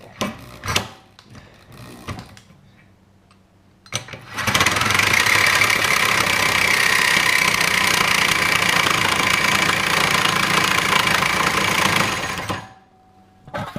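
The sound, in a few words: Milwaukee Sawzall reciprocating saw with AX blade cutting steel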